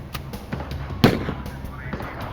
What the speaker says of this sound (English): Bammel blocked McClane's exit with gunfire.